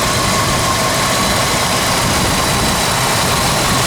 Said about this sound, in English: This little 289 engine, you can't get it to run any nicer. I mean, it runs excellent.